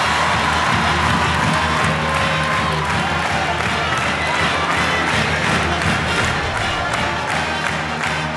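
Crowd noise fills a women's college basketball arena as North Carolina hosts NC State, a steady loud roar of cheering and shouting sustained throughout, with thumps and scattered yells mixed in.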